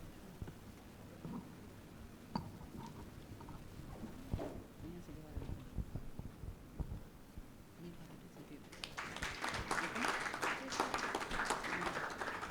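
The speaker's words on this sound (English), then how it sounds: "this deserves a louder applause" At a Rotary gift handover ceremony, a room of people breaks into lively applause after a stretch of speech and background murmur, the clapping rising suddenly and holding for the last few seconds.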